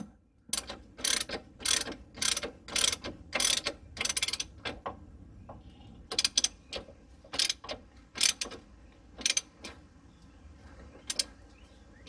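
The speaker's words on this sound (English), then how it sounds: "I'm going to have a 13 millimeter wrench on top" A ratcheting wrench working a 13 mm bolt on the front shock of a 2004 Jeep Grand Cherokee, rapid bursts of sharp clicking strokes repeated in uneven clusters, close and alone.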